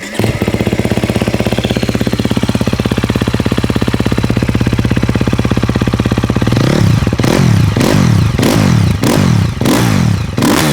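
A vehicle engine recorded with the microphone close to the exhaust pipe idles with a steady, loud rumble, then gives several sharp revs in quick succession toward the end.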